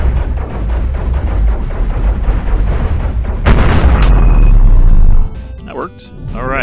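Ship weapons in the Cosmoteer space game pound an enemy reactor with rapid booming impacts, building to a loud blast and crackling debris before fading, while someone speaks briefly near the end.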